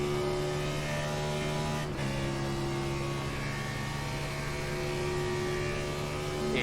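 A NASCAR Cup car engine held at full throttle on the Daytona Road Course in the iRacing sim gives a loud, steady, buzzing drone with no talk, interrupted only by a brief dip early on before resuming unchanged.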